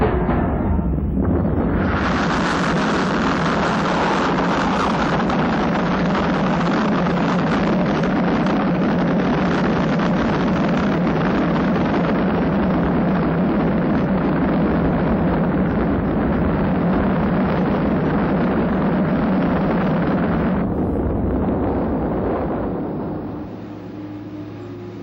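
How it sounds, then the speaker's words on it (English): Space Shuttle Columbia's main engines fire together in a final static test, a loud, steady, broadband roar that holds for about twenty seconds, eases slightly near the end, then tails off. "Now, in a last critical test, they will be fired all together on the ship."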